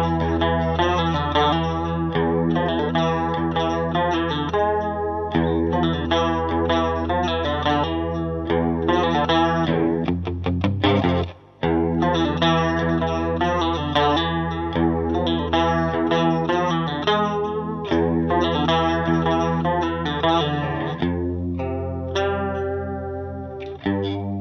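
A 1976 Boss CE-1 Chorus Ensemble pedal shimmers over a Stratocaster played clean, sustained chords and picked notes swirling with a steady chorus wobble, loud and alone apart from one brief break near the middle.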